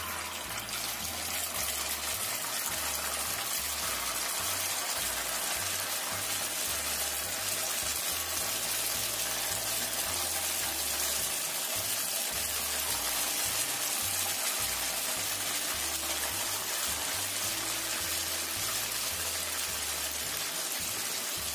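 Snacks fry in a pan of hot oil over medium-low heat, giving a steady, close hiss with dense crackling that runs continuously without pause and with no voices.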